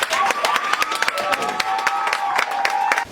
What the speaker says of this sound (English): if everyone could stand and clap for her, please